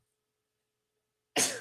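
A woman's single sudden sneeze bursting out of silence at the very end, close and sharp.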